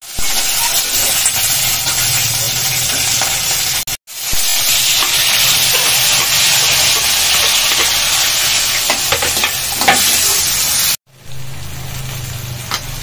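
Green chillies fry in hot oil with a loud, continuous sizzle full of crackles and pops, broken by two brief silences.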